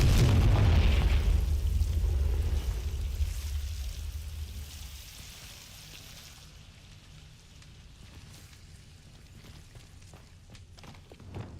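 A magical Confringo fire spell bursts with a heavy explosion in the Hogwarts video game, a big booming blast up front that rumbles and decays into a long, fading crackle.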